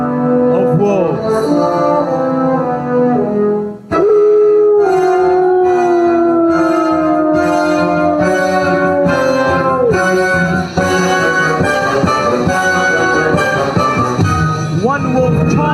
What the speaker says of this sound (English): she heard the low, menacing growls of wolves